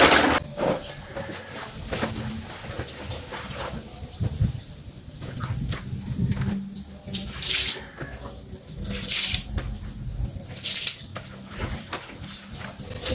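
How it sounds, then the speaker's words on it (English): Clothes being washed by hand in a basin of water, with steady sloshing and splashing throughout and brighter bursts of swishing water at intervals, close and fairly loud. "So I'm only washing it with my hand, and after that we will use this for rinse and spin."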